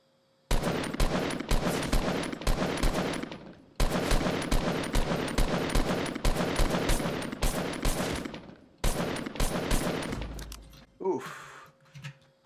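Rapid automatic gunfire blasts in long sustained bursts during a Fortnite match, with brief gaps between volleys, then a few softer clinks and game sounds at the end.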